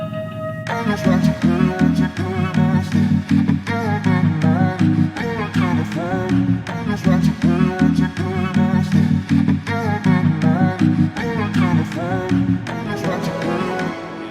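A synth part made in FL Studio plays within a full song mix, with dense rhythmic notes over a steady beat, loud and continuous without talking.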